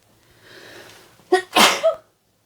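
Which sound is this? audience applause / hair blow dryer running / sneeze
sneeze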